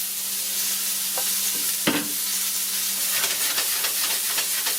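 Onions and peppers drop into hot duck fat in a pan for a sweet and hot duck breast dish and keep up a loud, steady sizzle and hiss with light stirring scrapes, close and continuous, with no talking.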